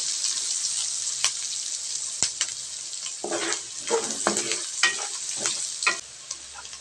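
Pork guisado sizzles and fries steadily in a pan while a utensil stirs and scrapes through it in a burst of clattering strokes, close and fairly loud, with no voices.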